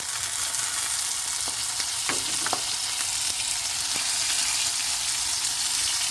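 Crushed chili, garlic and smoky chipotle sauce stirred in a hot pan, a dense continuous sizzle with a few sharp spoon scrapes and clicks, close and alone.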